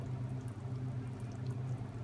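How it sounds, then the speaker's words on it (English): Thick caramel mixture pours onto a chilled biscuit base in a kitchen, a quiet, steady liquid pour with soft gloopy texture over a low background hum, no voices. "you want to just pour it on top"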